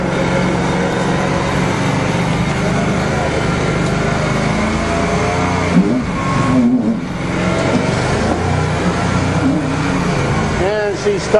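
Dump truck engine stuck in mud, a loud, close, steady rev that strains and surges near the middle and end, with a voice speaking over it.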